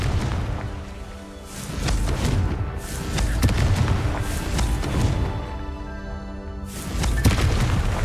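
Confringo spell blasts burst in the video game Hogwarts Legacy, several booming explosions in irregular succession over a rumbling battle background.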